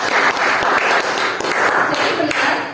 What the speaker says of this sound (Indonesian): Berikan tepuk tangan untuk Rezi.